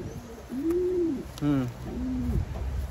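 Pigeon kept in a racing loft cooing in several rounded, droning calls spaced across the moment, fairly close and clear over a quiet background.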